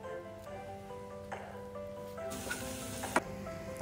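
Ginger garlic paste hits hot oil with onions in a pan for chicken biriyani, a soft steady sizzle rising into a brighter, louder hiss near the end.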